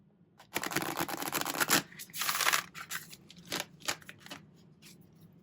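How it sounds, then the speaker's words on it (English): Tarot cards shuffled by hand during a card reading give close, crisp riffling bursts, then lighter scattered flicks and taps that fade out, with no voice over them. "I'm just going to shuffle and pull some cards out."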